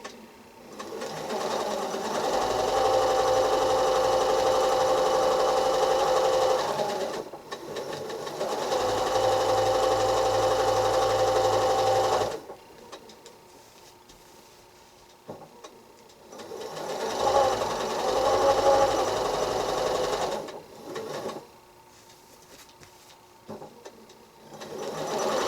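A sewing machine stitches a quilt applique in long steady runs of fast mechanical whirring, stopping and restarting a few times with quieter gaps between, close and loud.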